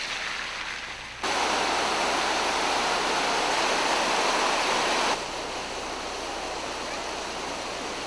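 A river near Mayon volcano rushes in a broad, steady roar; the water swells much louder and closer partway through, then drops back to a quieter, continuous wash.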